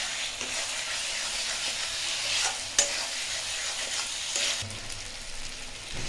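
Fried potatoes stirred through a spice masala in a pan for fish curry, a steady loud sizzle with scraping stir strokes, one sharp clink near the middle and a stronger burst of frying toward the end.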